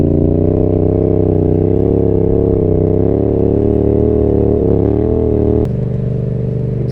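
Yamaha XSR700 motorcycle fitted with an M4 exhaust, riding at steady revs with a loud, continuous engine drone that drops to a lower tone near the end.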